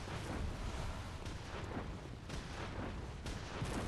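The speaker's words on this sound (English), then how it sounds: "I'm hearing so many gunshots." Rapid gunshots ring out in the video game Bloodborne, a dense barrage of sharp cracks over a constant rumble, with no one speaking.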